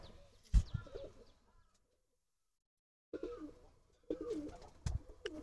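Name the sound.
pigeons cooing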